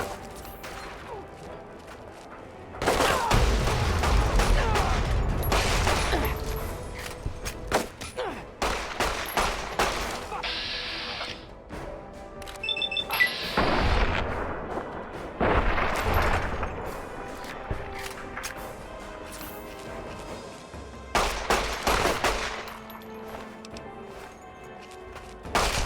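Gunfire in Fallout 3 comes in loud bursts of rapid shots and blasts, clattering volleys separated by brief lulls across the whole stretch.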